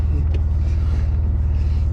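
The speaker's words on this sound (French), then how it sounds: "en plus maintenant faut apprendre à Aurélien comment démarrer une bagnole." Alfa Romeo 147 GTA engine running just after start on a grey day, a loud, steady low rumble with a fast even pulse, close up and alone.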